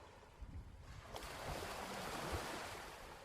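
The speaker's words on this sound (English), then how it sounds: "noticing the difference again in the sound of that sea." Sea waves wash onto an island shore, a soft, distant rolling surf with gentle swells and some wind, no voices present.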